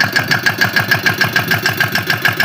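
A tractor engine runs close by with a loud, steady chugging pulse repeating several times a second, with no voices.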